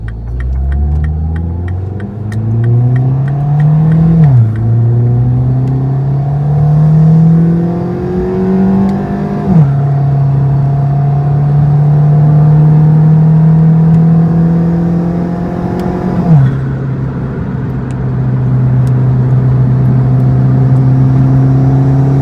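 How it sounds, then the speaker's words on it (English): A car fitted with a Go Fast Bits DV+ recirculating diverter valve and a DIY intake, its engine climbing steadily through the gears. Three upshifts each bring a brief release as the revs drop, with no talking. "hopefully you'll be able to hear the blow-off valve sound, or it's not really a blow-off valve, it's a recirculating valve"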